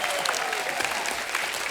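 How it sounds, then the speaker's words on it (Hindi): Studio audience on an Indian comedy talk show breaking into loud applause, a dense continuous wash of clapping with no talk over it. "सोनम जी के लिए जोरदार तालियां"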